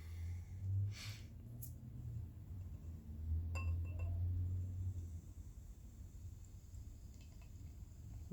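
Hard Road Brewing Chestnut Brown ale being poured into a glass, with clinks of glass at the start and a low, steady pouring rush through most of the clip, fairly close.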